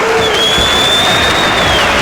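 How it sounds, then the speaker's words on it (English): Boxing arena crowd at the Molson Center giving a muted, steady murmur with very little cheering, a broad continuous wash of many voices and a faint whistle-like tone running through it. "you can tell by the reaction of the fans at the Molson Center, very little cheering"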